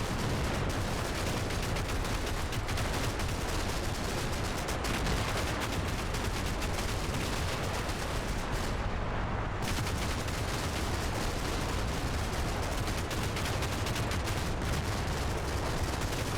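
Sustained gunfire aimed at an anti-aircraft gun in the wargame Combat Mission: Battle for Normandy, a dense continuous roar of shots and impacts at steady loudness throughout, with no voices.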